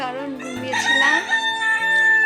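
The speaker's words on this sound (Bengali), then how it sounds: "মোরগটা খুব ডাকে আমাদের বাড়িতে," A rooster crows at a house, a long, drawn-out call under a person speaking nearby, fairly loud and close.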